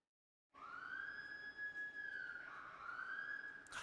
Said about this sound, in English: the sirens went off at the right time